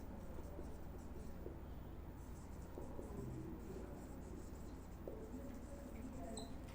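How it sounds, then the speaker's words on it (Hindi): Chalk or marker writing on a classroom board during a Hindi lecture on vitamins, a faint continuous scratching under low room noise. "यहाँ लिख दे रहे हैं।"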